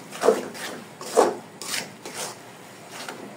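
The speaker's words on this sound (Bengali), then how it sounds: "মিহি করা চাল ভাজাটা দিয়ে যে এখন একটু নেড়ে দিচ্ছি" A spoon stirring roasted, finely ground rice flour into a thick coconut-jaggery filling for pitha, giving close, repeated scraping and rubbing strokes in an uneven rhythm, with no talk.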